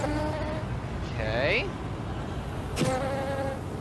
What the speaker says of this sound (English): There's a bee over here.